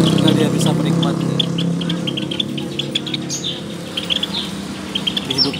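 Java sparrow chirping: a steady stream of short, bright, high tweets repeating over a continuous low background hum, fairly close and loud.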